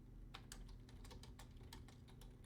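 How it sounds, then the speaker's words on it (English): Quick, irregular keystrokes on a computer keyboard tap away in bursts during an online Dungeons and Dragons session, soft and close against a low background hum, with no talk. "Or you're still typing."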